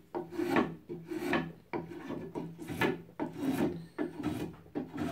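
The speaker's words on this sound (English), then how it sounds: "trim it down with spoke shaves, some chisels and files" Hand tools scrape and rasp along a wooden walking stick being trimmed with spokeshaves, chisels and files, a steady close rhythm of repeated strokes, each a rough rising-and-falling scrub, with no talking.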